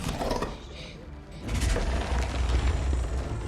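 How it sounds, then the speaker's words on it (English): An amplified staple being pulled out of plastic, used as extreme horror sound design: a loud mechanical, ratcheting crunch that swells after a quieter opening, with no talk. "Take the sound of a staple coming out of the plastic"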